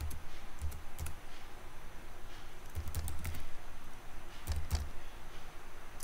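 Password being typed on a computer keyboard, with short bursts of quick, close key clicks separated by pauses and steady low background hum, no talking.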